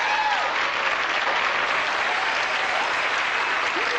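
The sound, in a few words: audience applauding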